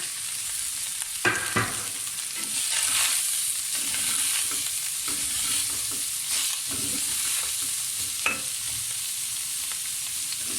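Vegetables and onion fry in a hot pan for vegetable and chicken spring rolls, giving a steady close sizzle broken by a few sharp stirring scrapes, with no talking.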